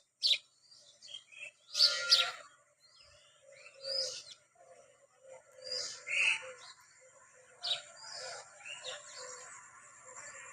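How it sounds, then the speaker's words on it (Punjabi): Morning sparrows nesting in a tree, chirping in bursts of quick, bright tweets, some close and loud, others fainter, scattered over an otherwise quiet background. "ਇੰਨੀਆਂ ਚਿੜੀਆਂ ਰਹਿੰਦੀਆਂ ਨੇ ਨਾ ਇੱਥੇ ਇੰਨੀ ਪਿਆਰੀ ਆਵਾਜ਼ ਹੁੰਦੀ ਹੈ"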